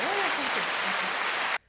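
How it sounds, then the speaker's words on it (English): A canned applause-and-cheer sound effect fires from a button on a podcast, a bright burst of clapping and whoops with a brief rising whistle that keeps an even level and then cuts off abruptly into silence. "Press the applause, the hooray"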